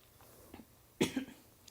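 A single short, close cough, with a faint throat sound just before it in an otherwise quiet room.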